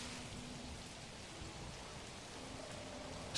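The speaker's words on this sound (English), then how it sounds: "It's doing a lot of raining." Steady rain falls in the medieval city-building game Manor Lords, a soft, even hiss of downpour that runs unbroken and fairly faint throughout, with no voices over it.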